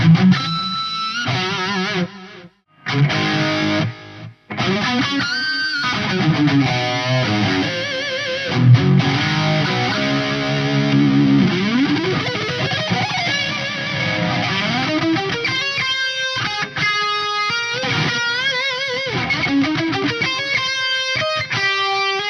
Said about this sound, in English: I think there's kind of like a reverb on the left and some delays